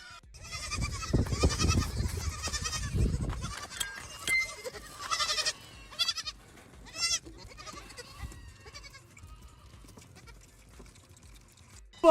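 A bunch of goats bleating on stage at a comedy show, with several loud, overlapping cries early on and then scattered calls. Crowd noise sits underneath, with no clear talk.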